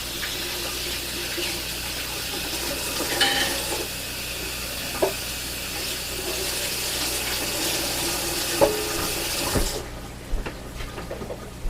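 Water runs steadily from a kitchen tap as hands are washed, a continuous broad rush with a few light clinks, stopping abruptly near the end.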